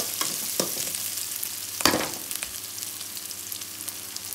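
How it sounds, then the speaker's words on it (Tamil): Green and dried chillies are sautéed in a pan for a village-style fish curry. A steady crackling sizzle carries throughout, broken by a few sharp spatula knocks, the loudest near the middle. "ஒரே ஒரு காஞ்ச மிளகாய் போட்டுருக்கேன். சேர்த்து நல்லா வதக்கிடுங்க"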